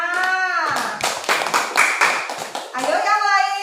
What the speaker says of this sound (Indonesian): Tepuk tangan buat Desma.